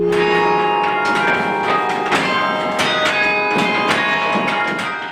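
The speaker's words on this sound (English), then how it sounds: "Carillon bells sing in many voices" Carillon bells of Church of the Covenant in Cleveland ring out loud and close, several tuned bells struck in succession with bright overlapping tones and long shimmering decays.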